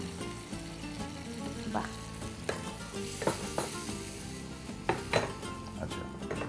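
Water added to a sizzling fish curry in a pan, a dense frying hiss with spoon clinks against the pot, while a few words are spoken briefly.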